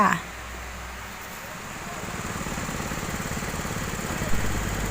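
A well drilling rig's engine drones on continuously, a rough mid-pitched mechanical hum that stays constant throughout without pauses.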